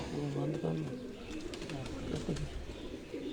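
Pigeons coo on a rooftop, a low, steady, soft burbling that continues throughout at moderate distance, with faint background noise.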